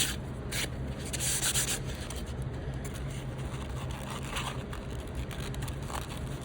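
A hand rubbing an H.O. scale model coal load, a soft continuous close scratchy rustling with faint grainy scraping and no talk.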